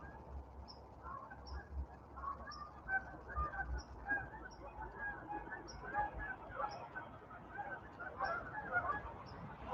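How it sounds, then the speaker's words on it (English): Geese honk repeatedly overhead in a scattered, rhythmic series of calls, moderately distant, over a low background rumble. "Got the geese flying overhead."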